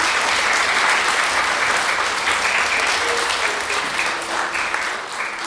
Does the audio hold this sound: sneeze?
no